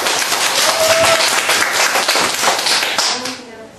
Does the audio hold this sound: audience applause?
yes